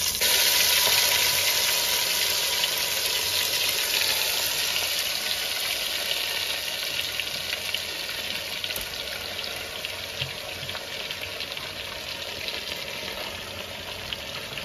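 Marinated mutton frying in a handi pot with whole spices, a steady loud sizzle that eases slightly over time, with no talk.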